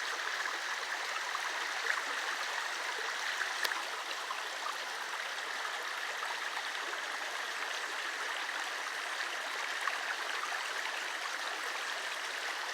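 Calm river stream flowing steadily through El Yunque rainforest, a continuous even rush of water with soft gurgles, close and unbroken for the whole stretch, with no voices.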